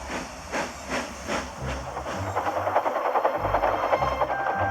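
A Thomas the Tank Engine steam locomotive toy puffing along, rhythmic hissing chuffs that speed up into a fast steady chugging with a low mechanical rumble underneath.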